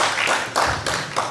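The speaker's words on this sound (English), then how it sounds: "A round of applause for 3 of our very distinguished panelists." Brief, moderately quiet applause for panelists at a precious metals conference in Singapore, heard as a few rhythmic bursts of clapping.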